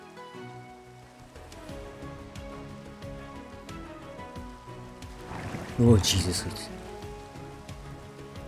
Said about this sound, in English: Unfortunately, it did start to rain